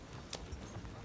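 In Red Dead Redemption 2, horse hooves clip-clop in a short, faint run of soft irregular steps over a low background hum, with no speech.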